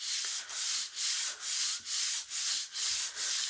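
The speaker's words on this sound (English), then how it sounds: "close the card and rub it down" Card being rubbed down by hand after gluing, eight steady back-and-forth rubbing strokes with brief pauses between them, close and fairly quiet, with no talking.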